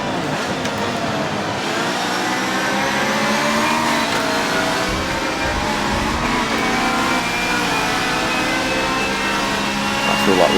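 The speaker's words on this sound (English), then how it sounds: "Just going to run the revs up a little bit higher." A Ferrari race car in a Le Mans racing game revs hard and steadily, its engine note sustained and loud without a break for the full stretch, with no talking.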